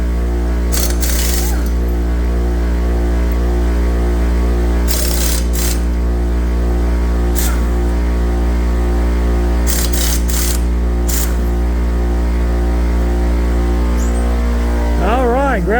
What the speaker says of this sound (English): Very big air compressor.